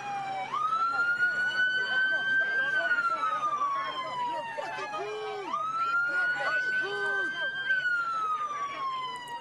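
Police car sirens wail at a street protest in California, two long rising-and-falling sweeps sounding loud and close over a murmur of crowd voices.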